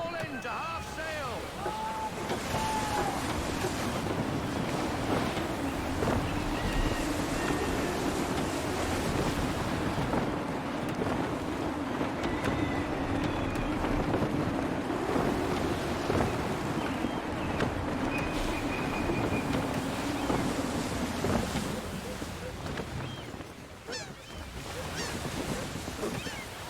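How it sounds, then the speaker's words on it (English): Steady gusty wind and rushing waves around a sailing ship in Assassin's Creed III, a continuous roar of sea and wind with occasional shouts and voices speaking over it. "Gusty winds can be difficult to manage."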